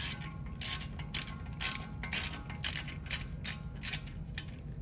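A ratchet tightens a bolt during a brake rotor install on a 2018-2021 Subaru WRX, giving a steady series of quick clicking strokes, close and clear, with no talk.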